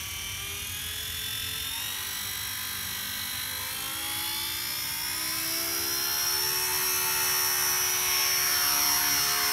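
A Blade Apache RC helicopter flies nearby with a steady, high-pitched rotor and motor whine that holds continuously and slowly rises in pitch and loudness toward the end, with no talking.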